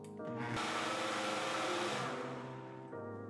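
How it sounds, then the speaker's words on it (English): A blender runs on high, mixing coquito ingredients with rum, a steady loud whirring motor that surges up after a brief start and holds for several seconds before easing back. "Blend on high for 30 seconds or until the ingredients are properly incorporated."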